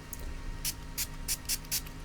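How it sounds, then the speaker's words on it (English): Spectacle cleaning spray is pumped onto an Oska Pulse device in six quick, close hissing bursts, the last five coming in a fairly even rhythm against a quiet background. "So just spray it on"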